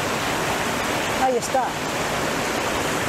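Water flows in a steady, full rushing wash like a stream or small cascade, close and constant, with a voice speaking briefly over it in the middle.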